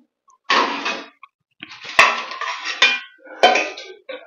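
A metal lid set down on a pan of steamed sooji dhokla, several clattering knocks and scrapes in bursts, close and fairly loud.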